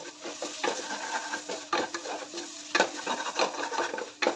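Spoon scraping and stirring chili, coriander and garam masala powders in a pan for a Kerala tender jackfruit curry, giving a steady, moderately close run of soft rasping strokes with no sizzle.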